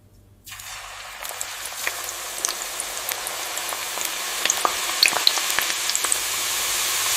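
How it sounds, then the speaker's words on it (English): Potato slices drop into a factory fryer, which breaks into a sudden, dense sizzle after a brief quiet start and grows steadily louder with crackling pops as the chips fry. "Now comes the transformation, frying the slices into crispy chips."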